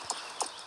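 Horse hooves on a basic riding horse clip-clop twice at an even walking pace, close by and clear, with no talk.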